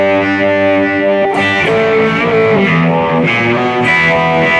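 Electric guitar played through a Boss eBand JS-10, distorted sustained notes and bends ringing loud and close, alone without voices.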